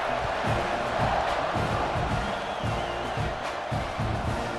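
A stadium crowd in a college football video game, Texas A&M against Missouri in CFB26, roars steadily and loudly throughout, with a broad cheering wash and a rhythmic low rumble.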